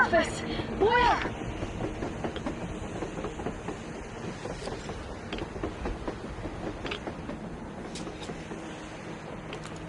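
A train rolls along on the surface in a video game, its rhythmic clattering and rumble continuous and fairly close, with a brief voice near the start.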